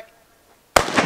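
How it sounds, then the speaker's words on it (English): A single gunshot fired at a brick outdoors, a sudden loud sharp crack after near silence, followed by a brief ringing tail. "Just going to shoot some guns."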